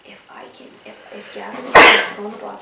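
A single sharp, loud sneeze breaks out near the end of a stretch of talk, briefly louder than the voice.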